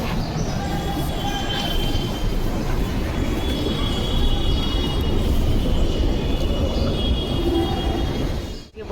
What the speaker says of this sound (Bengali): গঙ্গার নিচ দিয়ে মেট্রোর এক্সপিরিয়েন্স করব